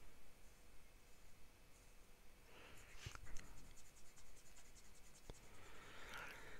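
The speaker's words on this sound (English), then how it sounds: "The next pen is the Visconti Homo Sapiens Kappa Mundi. So we'll do an ink swatch here." A Visconti Homo Sapiens fountain pen with a medium nib scratches softly across paper while making an ink swatch. The quiet strokes come in short bursts against a faint hiss in a calm room.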